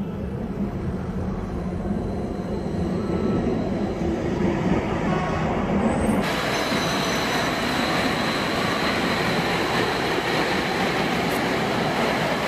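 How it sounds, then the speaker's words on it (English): A light rail train in Ethiopia rumbles steadily past at close range, a loud continuous roar of wheels on track with a brighter hiss joining midway. "the light rail that they just launched in Ethiopia"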